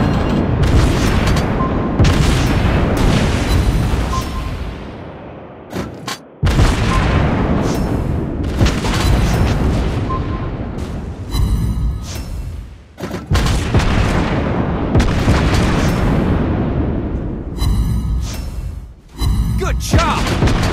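Heavy booming blasts of torpedo hits and naval gunfire from a World of Warships Blitz battle involving the Tier 5 American cruiser Marblehead. The deep impacts are loud and near and come in dense repeated waves with brief lulls between them.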